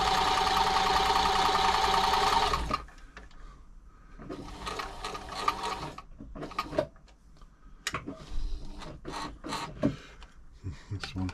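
Toyota 2600 sewing machine running a test pattern of stitches, a steady whirring burst at first, then shorter intermittent runs with clicks and knocks, close by.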